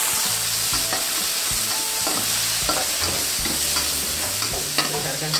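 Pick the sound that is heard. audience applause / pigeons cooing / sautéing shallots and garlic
sautéing shallots and garlic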